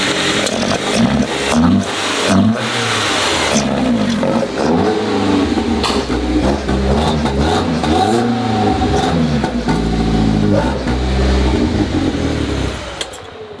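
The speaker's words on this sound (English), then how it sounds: "we can start it up, do some rev clips for you just so you guys can at least hear it" A BMW E30 318is fitted with individual throttle bodies, revved hard again and again at close range. The engine note rises and falls in sharp, raspy swells over a steady idle, with popping backfire cracks between blips.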